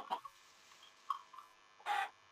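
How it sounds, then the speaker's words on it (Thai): Minecraft chickens cluck in a few short, separate bursts, with the last one the loudest, over a quiet game background. "ไก่ตัวนี้ต้องพิเศษ"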